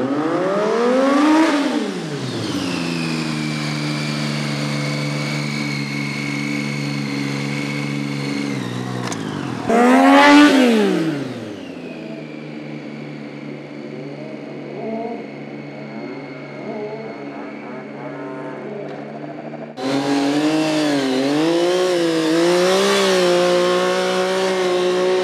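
A stunt-riding motorcycle screams through repeated hard accelerations over a 25-30 metre run-up, engine pitch sweeping up and holding high, with quieter idling gaps between the loud close runs.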